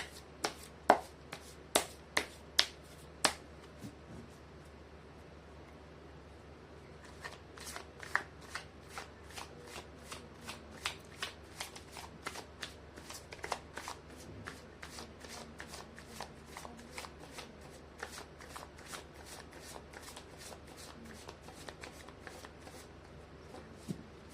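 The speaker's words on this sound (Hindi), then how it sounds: "कर लेती हूँ कार्ड की शफलिंग।" Tarot cards being shuffled by hand, a long run of crisp, close riffles and slaps, at first spaced out, then in a fast steady rhythm, with no talking.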